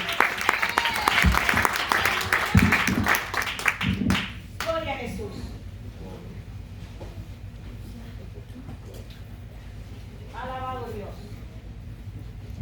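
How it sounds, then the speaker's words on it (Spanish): A church congregation gives loud, full applause for about four seconds that then cuts off, followed by a quieter stretch with a voice speaking and a low hum in the room. "denle un aplauso al Señor"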